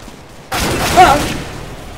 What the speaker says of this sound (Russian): Ой, кинули гранату!